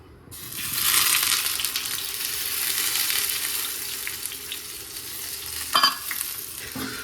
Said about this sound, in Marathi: ते 2 अंड्याचं ऑमलेट बनवतो मी.